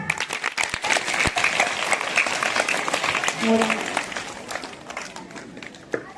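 An audience claps loudly and continuously after a children's school skit about Nehru, a dense burst of applause that thins out toward the end, with a voice briefly heard over it.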